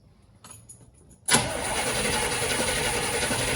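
A 1973 Corvette Stingray that sat unused for 20 years is cranked over after a few faint clicks, then its engine catches and settles into a loud, steady rumble close by.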